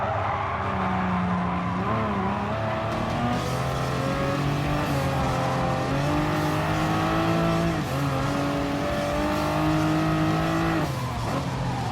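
Race cars in Gran Turismo Sport roar loudly and continuously, engines revving up and down through gear changes while one car tries to pass a Porsche, with occasional tire squeal.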